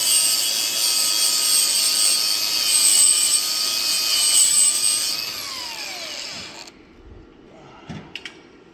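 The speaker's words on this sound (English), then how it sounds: "Grind off the paint so that the welding sticks." An angle grinder screeches steadily while grinding paint off metal before welding, a loud high-pitched whine that winds down and stops, followed by a few faint clanks and quiet handling noises.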